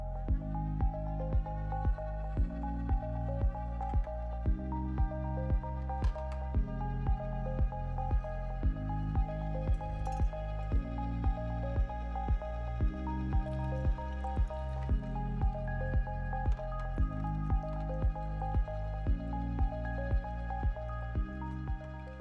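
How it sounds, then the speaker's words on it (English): A Sana 727 juicer crushes watermelon at fast speed with the fine screen, making a steady mechanical grind with regular, rhythmic wet squishing pulses throughout at close range and no talking. "Watermelon should juice pretty easily in most any juicer because it's got such a high liquid content."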